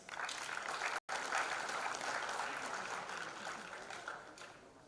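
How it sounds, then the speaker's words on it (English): An alumni meet audience applauds a speaker, a dense, steady roll of many hands clapping at moderate level with one brief dropout near the start and a slow fade. "Please join me in giving him a big round of applause."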